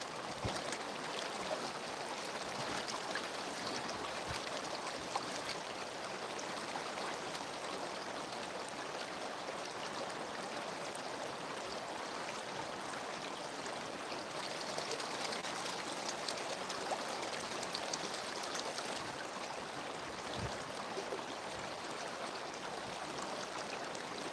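Gold panning in a creek: a constant broadband rush of flowing creek water fills the whole stretch at low level, with faint swishing and no talk.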